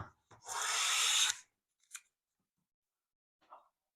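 A Bedrock hand plane takes a single long full-width shaving off a wood board, a close, loud rasping swish lasting about a second, followed by a couple of faint light taps.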